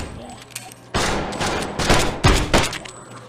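Rapid gunfire in the Dead Horizon video game: a near, loud stretch of repeated sharp shots bursting in after a quiet start, with several strong cracks near the end.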